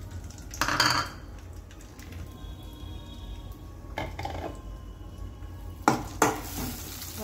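Raisins frying in a pan for boondi payasam, a faint sizzle under bursts of a spoon scraping and clinking against the pan, with three louder stirring clatters.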